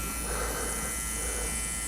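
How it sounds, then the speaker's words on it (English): A small handheld grinding pen buzzes steadily and close up as it grinds a circuit board trace, a continuous whining hum with no pauses. "I'm going to grab my grinding pen, grind a little more of that off"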